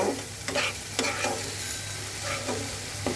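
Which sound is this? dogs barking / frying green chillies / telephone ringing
frying green chillies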